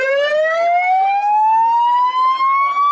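A new fire tanker truck's siren, a loud, close, steadily rising wail with strong tonal harmonics that keeps climbing over three seconds.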